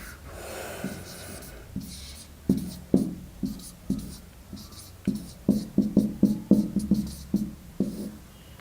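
Chalk or marker writing during a UPSC ethics class, heard as a run of short scratchy strokes in bursts, close and fairly clear, with a quiet room hum behind.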